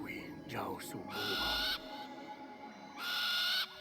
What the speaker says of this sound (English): Looks like a great horned owl.